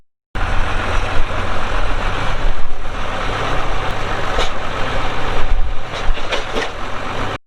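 A farm tractor engine runs loud and steady nearby, a continuous rumbling drone with some clunks and rattles, no talk heard.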